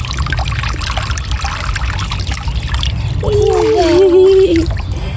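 Water trickles and pours steadily at a toddler's outdoor water table, a continuous close splashing dribble that swells louder near the end, with a voice briefly rising over it.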